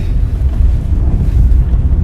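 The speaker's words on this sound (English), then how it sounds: "So it's a bit windy" Tropical Storm Zeta's wind in Jamaica buffets the microphone, producing a heavy, fluttering low rumble that never lets up, with no voices.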